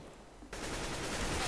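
A burst of automatic gunfire in the video game Counter-Strike: Global Offensive starts abruptly after a quiet moment and continues as a fairly faint, steady rattle.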